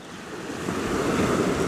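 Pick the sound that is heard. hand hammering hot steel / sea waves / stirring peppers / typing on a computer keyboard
sea waves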